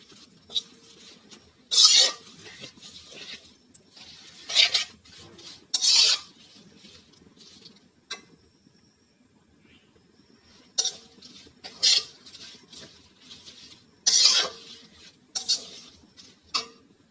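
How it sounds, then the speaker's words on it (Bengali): A spoon stirs homemade herbal hair oil ingredients, hibiscus flowers among them, in a bowl, producing intermittent bright scraping and clinking bursts separated by quiet pauses, close and fairly clear. "সবগুলো উপকরণ দেওয়া হয়ে গেলে খুব ভালোভাবে নেড়ে চেড়ে নিতে হবে। খুব ভালোভাবে এভাবে অনবরত নাড়তে হবে।"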